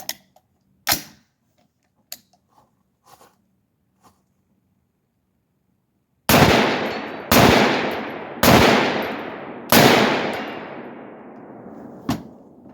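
AR-47 rifle fitted with a Deer Creek Stealth Blast muzzle device, four loud booming shots fired in quick succession, each with a decaying outdoor echo, followed by a lighter report, after several faint mechanical clicks and handling noises.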